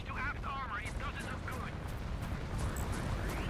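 Vulture weapons fire at an enemy ship during space combat in the video game Fractured Space: a steady, dense rumble of blasts and booms that carries on without a break, with voice-like game tones early on.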